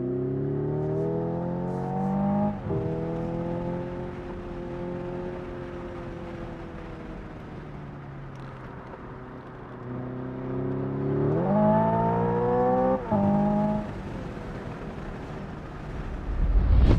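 Hyundai Ioniq 5 N electric car, a 600-horsepower 2025 model, lapping a track with a simulated engine note that rises through gears, with stepped shift drops and steady cabin hum, moderately loud and close.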